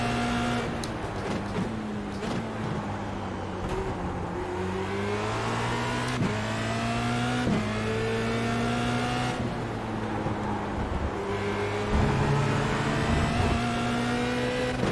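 A Formula Renault 2.0 race car engine in the iRacing simulator screams loudly and continuously, its pitch climbing through the gears with sharp drops at each upshift, heard alone without talk.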